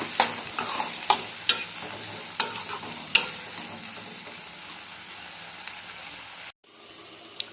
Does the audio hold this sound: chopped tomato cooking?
yes